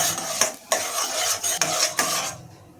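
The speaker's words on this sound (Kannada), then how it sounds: "ಕಡಲೆಬೇಳೆ ನಂತರ ಉದ್ದಿನ ಬೇಳೆನ ಸೇರಿಸಿ ಇದೆರಡು ಕೆಂಪುಗಾಗೋವರೆಗೂ ಹುರ್ಕೋತಾ" Chana dal and urad dal roast in a pan while being stirred, giving repeated scraping and clinking strokes of a utensil against metal over a soft sizzle, close and with no voices.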